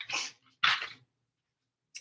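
A dog gives two short, sharp snorts or sneezes close by, separated by a brief pause, with a quick faint puff near the end of the clip and otherwise quiet surroundings.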